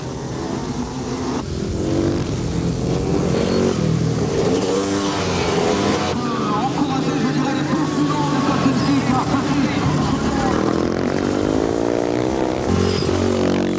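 Motocross motorcycle engines roar and rev continuously on a dirt track during a race, loud and close, with an announcer commentating over the engine noise throughout.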